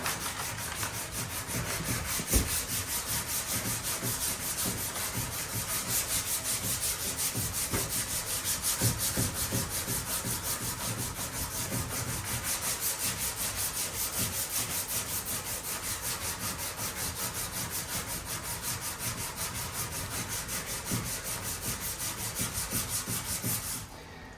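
Easyrider sidecar body being sanded by hand before repriming, a continuous rapid back-and-forth rasping rub, close and steady throughout with a brief knock early on, and no one speaking.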